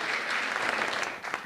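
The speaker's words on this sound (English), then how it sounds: "we'll give him a round of applause anyway." Audience applause fills a college Democrats convention hall, a steady dense wash of many hands clapping that holds for the whole short moment with no voices standing out.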